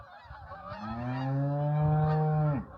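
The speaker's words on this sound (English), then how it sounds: "The geese are coming back." Geese flying back in spring give a single long, loud, drawn-out honk that swells and then cuts off, clear against a quiet farm background.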